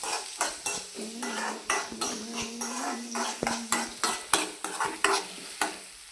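Curry leaves, onion and chilies frying in a pan after mustard seeds pop, with a spoon scraping and clinking against the metal in an uneven, busy rhythm over a steady close sizzle; no voices.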